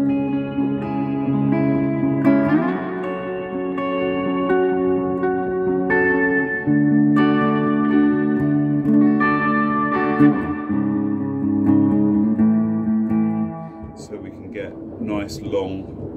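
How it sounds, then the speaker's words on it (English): Sustained guitar chords through a hall reverb pedal, washed in long, swirling reverb tails that bloom and decay slowly, ending in a shimmering fade. "long trails with it as it recycles the reverb round into itself."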